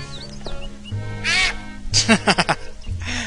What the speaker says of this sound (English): Hey, look at the duck.